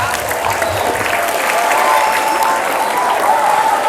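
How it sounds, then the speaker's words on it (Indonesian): A large crowd of students applauds steadily at a school Maulid Nabi celebration, a loud, continuous wash of clapping with faint voices mixed in underneath. "Tepuk tangan semuanya."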